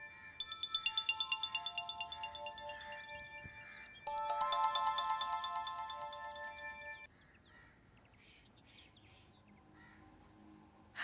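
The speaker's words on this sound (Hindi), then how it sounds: "अभी उसका जिक्र ही हो रहा था कि उसकी कॉल आ गई।" A phone ringtone plays a bright, repeating electronic melody in two bursts, then cuts off, leaving quiet room sound.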